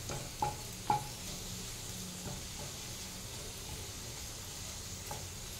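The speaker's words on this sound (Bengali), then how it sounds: "পাঁপড়টাও ভাজা হয়ে গেছে" Papad frying in hot oil, a steady soft sizzle and hiss running throughout at low level, with a couple of brief clinks of a utensil near the start and no talking.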